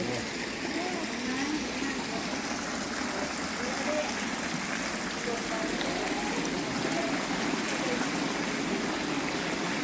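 Water flowing steadily at a hot spring pool in Ratchaburi, Thailand, a constant broad rushing wash with no breaks, moderately loud, with faint voices mixed into the background.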